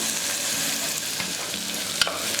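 Onions fry in a pan with a steady, close hiss of sizzling oil and a few soft scrapes as they are stirred.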